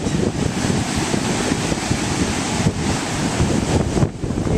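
Ocean surf washes onto a beach at high tide, a loud, continuous roar of breaking waves mixed with heavy wind buffeting the microphone, no voices.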